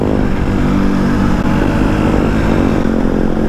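An Aprilia Tuono 125 motorcycle engine accelerates loudly and close, a steady rising buzzing drone with no speech over it.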